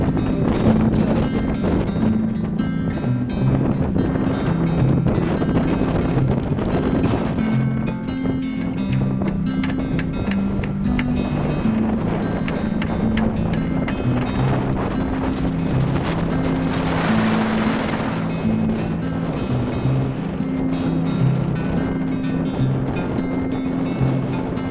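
Strong wind buffets a moored sailboat during Hurricane Dorian in 2019, a continuous loud roar with tonal rigging hum and a swelling gust near the end, no voices heard.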